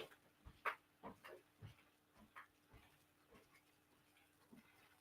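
A dog indoors gives short, scattered yelps and whimpering barks, several bursts over a few seconds, fairly close but not loud, with faint background noise.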